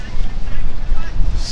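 Gusty wind buffets a commentary tent at a Hong Kong cricket ground during a Premier League one-day match, a steady low rumble with fluttering bursts and microphone wind noise throughout.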